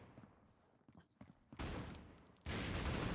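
Pistol shots ring out in a competitive video game match: a few scattered quiet pops, then two loud bursts of gunfire with no talk over them.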